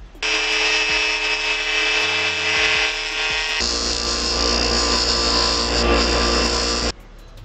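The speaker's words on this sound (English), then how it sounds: "we're going to grind that down some more and see if we can't just make it smaller" A power grinder grinds down a homemade fishing lure, a loud, steady high whine running about seven seconds, its pitch and load shifting partway through as the tool bites harder, with no talking.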